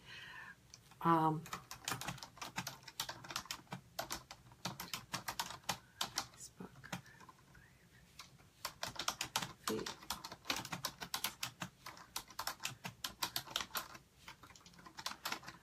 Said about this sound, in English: So I'm going to actually type in